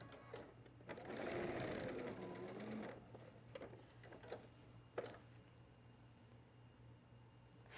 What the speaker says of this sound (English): we're going to stitch down one short edge and one long edge